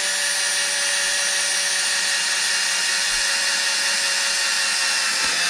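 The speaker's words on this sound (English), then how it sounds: "now I've got the drill, and I'm just going to drill in straight as possible." Power drill boring a hole through a Touratech hand guard spoiler on a BMW R1250GS motorcycle, a steady high-pitched whine running without pause, loud and close, with no voices.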